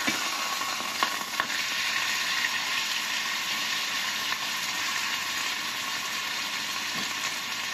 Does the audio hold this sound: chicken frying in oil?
yes